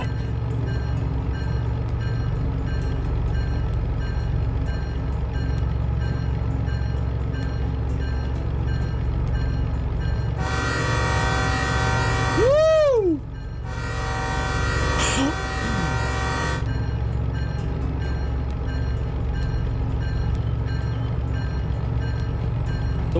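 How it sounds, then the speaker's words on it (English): A DE6 diesel locomotive idles with a steady low engine drone in the Derail Valley train game, joined midway by a loud horn blast that fades, then a second shorter horn call, with no talking. "And I can control the train from here too."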